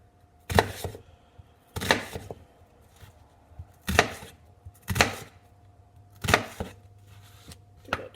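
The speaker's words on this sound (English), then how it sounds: "next we're going to do some chopped onion and chopped bell pepper. I don't have the best chopping technique" Knife chopping onion and bell pepper on a cutting board for homemade meatloaf, about six separate bursts of quick, crisp chops with short pauses between, close and clear.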